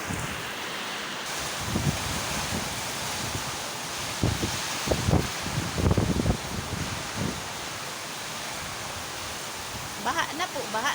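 Strong Typhoon Christine winds under Signal No. 2 roar across flooded Cavite, a dense broadband rush with gusty surges and bursts of wind buffeting the microphone, while voices speak faintly underneath.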